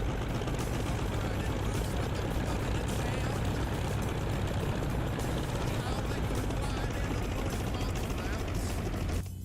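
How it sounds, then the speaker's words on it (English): Aircraft engine idling at low revs in the DCS World flight simulator, a steady, bubbly low rumble that runs loud and unbroken throughout with no talk over it. "I really like the sound of the engine on this when it revs at low revs."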